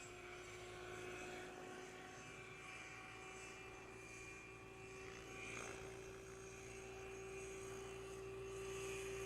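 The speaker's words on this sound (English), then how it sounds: "Even though she's a big helicopter, you can see her fighting with the wind." Large Align T-Rex 760X radio-controlled helicopter flying in strong wind on a windy hilltop, a steady droning rotor and motor whine with a constant tonal hum that swells slightly as it passes, heard from a moderate distance with no talk.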